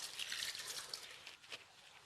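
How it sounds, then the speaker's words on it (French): Hands washed under running tap water, a soft continuous splashing trickle with small irregular drips, fairly quiet and close, with no voices. "Je lave les mains."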